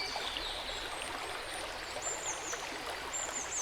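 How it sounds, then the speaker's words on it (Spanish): A serene river flows gently at sunset, a soft continuous trickle of water with steady babbling, faint and even throughout, with a few high bird calls above. "Frente a ti aparece un río sereno. El agua fluye lentamente"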